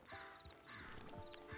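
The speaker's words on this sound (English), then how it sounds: "Just get on the horse when you're good and ready, okay?" Horse hooves clip-clopping in Red Dead Redemption 2, a close, steady walking rhythm of hoofbeats with a whinny and faint background game sounds.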